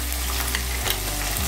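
Chopped onions frying in hot oil with cumin seeds for a chickpea curry, a steady close sizzle with stirring scrapes throughout, no voices.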